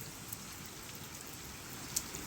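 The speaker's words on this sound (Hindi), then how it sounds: "यहाँ पे बारिश हो रही है ना" Steady rain falls outdoors, a soft continuous hiss of drops spread across the whole stretch, faint and even with no voices over it.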